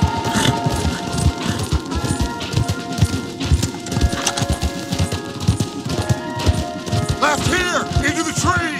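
Hooves pound in a fast, rhythmic gallop from several horses in the video game Red Dead Redemption 2, loud and close, with a whinny and voices mixed in.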